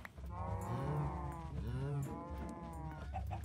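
A video game cow moos in a farm village, two drawn-out, close, fairly loud lowing calls with faint background game sounds and no talk.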